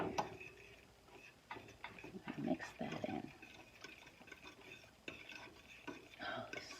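A spoon stirs a homemade chocolate mixture for Valentine's candies in a bowl, giving soft, uneven scraping and clinking taps over several seconds, close and fairly quiet, with no voices.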